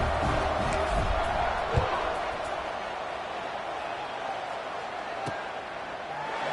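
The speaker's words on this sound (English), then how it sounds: "this crowd is buzzing after that last score" Crowd at a tied American football game buzzing after a score, a steady dense stadium murmur with a brief thump and an announcer talking over it.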